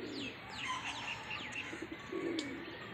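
Pigeons in a loft coo softly while small birds chirp sharply several times overhead, a quiet mix of low murmurs and bright repeated calls without talk.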